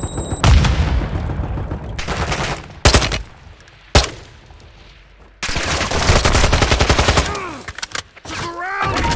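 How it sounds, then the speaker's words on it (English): Sniper rifle fire in a shooting video game, with sharp loud shots at irregular intervals against a dense stream of rapid gunfire and explosions. "Sniper rifle."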